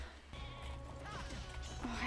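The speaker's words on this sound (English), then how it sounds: "Oh, I hate the sheep." Sheep bleat in a video game, a few short wavering calls over a constant background of game sound.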